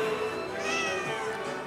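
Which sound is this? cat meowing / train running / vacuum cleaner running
cat meowing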